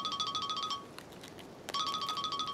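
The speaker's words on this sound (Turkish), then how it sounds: "Telefon çalıyor." A phone's electronic ringtone trills in quick repeated bursts, pauses briefly, then resumes ringing; fairly close and clear.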